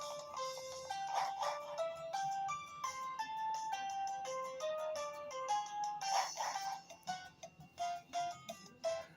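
A ringing tone in the video game Pokemon Brilliant Diamond: a faint, high, melodic chiming pattern of repeated notes, played alone in a quiet game scene with a soft dip near the end.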